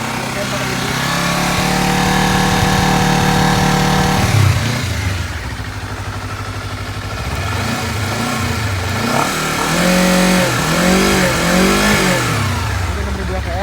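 Honda CBR 250 RR sport motorcycle on its original exhaust, revved in sport mode: a steady, loud, buzzy high idle climbs and holds, then drops into repeated sharp throttle blips rising and falling in pitch, close to the microphone.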